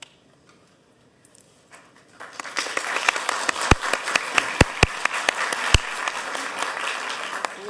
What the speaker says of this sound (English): we will give you a big round of applause